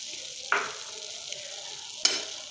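A coconut and powdered-sugar mixture stirred in a frying pan for coconut laddoo, giving two sharp spoon scrapes over a steady soft sizzle, close and alone.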